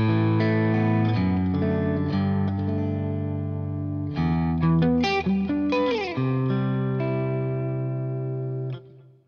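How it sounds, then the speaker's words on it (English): Distorted electric guitar plays through an amp modeler with an enhancer effect adding body. Sustained notes and chords with a few bends and quick runs stay loud and close for about nine seconds, then drop away, with no talking. "Then we've got an enhancer, so let's try adding a bit of body."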